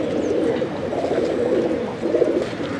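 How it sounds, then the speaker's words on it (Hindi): Several Lalsare and Lal Chapdar Ambalsare pigeons coo continuously in low, throaty murmurs, a steady overlapping chorus with no talking. "अभी हम आपको दूसरे कबूतर बताते हैं।"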